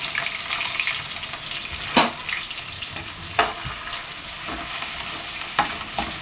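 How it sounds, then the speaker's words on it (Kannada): Onion and capsicum frying in hot oil give a dense, even sizzle with a few sharp spatula knocks at irregular intervals, no voices. "ಎಣ್ಣೆ ಬಿಸಿ ಆದಮೇಲೆ ಅದಕ್ಕೆ ನೋಡಿ, ಇಲ್ಲಿ ಒಂದು ಕಟ್ ಮಾಡಿ ಇಟ್ಕೊಂಡಿದ್ದಲ್ಲ ಈರುಳ್ಳಿ 2, ಅದು ಮತ್ತು ಕ್ಯಾಪ್ಸಿಕಮ್ 2 ಹಾಕ್ಕೊತಾ ಇದ್ದೀನಿ"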